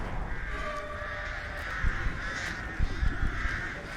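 Crows cawing in the Dead by Daylight horror game, a few harsh calls over a steady eerie ambient drone, fairly close and moderately loud.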